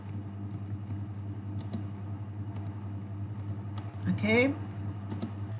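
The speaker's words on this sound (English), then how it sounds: "let me just type this here" Keystrokes on a computer keyboard clatter in a few sparse, scattered taps, faint and close, under a steady low room hum, with a short spoken word breaking in near the end.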